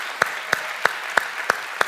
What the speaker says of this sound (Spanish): Fuerte aplauso a nuestro Señor Jesús,